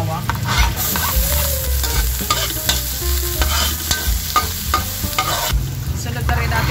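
Garlic sizzles in hot oil alongside browned ginger, a dense, close frying hiss broken by frequent scraping stirs of a utensil against the pan, loud and continuous with no voices.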